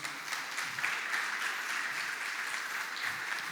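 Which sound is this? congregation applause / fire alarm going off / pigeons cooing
congregation applause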